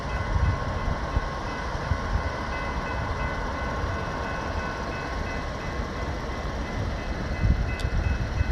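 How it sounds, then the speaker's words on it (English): An Amtrak passenger train rumbles along a highway near the coast, a constant low heavy roll with steady mechanical hum filling the whole stretch, heard from trackside at moderate distance. "And the Amtrak train stops right here and people got on and got off the train."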